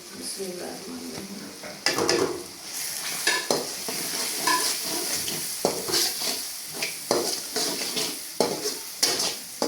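Masala for a dry moong dal tadka fries in oil in a pan, a steady close sizzle broken by repeated scraping strokes of a spoon stirring it, with no talk.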